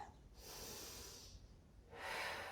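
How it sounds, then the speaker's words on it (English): Deep, audible breathing during a yoga stretch, close to the microphone. A long, airy inhale is followed by a pause, then a strong, hissing exhale, with no speech. "I want you to breathe for another 2 breaths."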